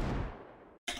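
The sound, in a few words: Desert Eagle gunshot from video game CS:GO, EQ-processed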